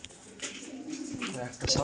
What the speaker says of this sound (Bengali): সব বন্ধ লেজের পায়রা